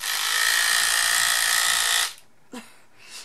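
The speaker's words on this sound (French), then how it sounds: "vous avez une brosse qui se change et qui est rotative et ça fonctionne comme une brosse à dents en fait." A battery-powered rotating cleaning brush with a replaceable head, working like an electric toothbrush, whirs steadily at close range for about two seconds, then cuts off, followed by a brief faint click and a soft rustle.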